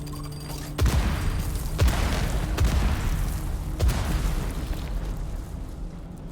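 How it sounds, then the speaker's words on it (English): Explosions boom in the Dune: Awakening video game, four heavy blasts arriving at roughly one-second intervals over a continuous rumbling bed of in-game noise, with no talk. "The myriad of explosions"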